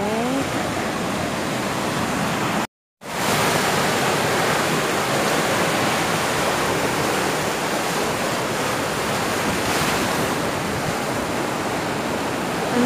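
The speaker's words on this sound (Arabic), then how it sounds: "عن جد البحر كتير كتير حلو والله، عن جد أحلى ما شاء الله" Sea waves breaking on a beach make a loud, steady surf roar that fills the whole stretch, broken only by a brief dropout near the start.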